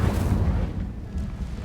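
The Incendio fire spell in Hogwarts Legacy goes off as a loud, deep, rumbling fiery burst that stays dense and heavy across a short moment.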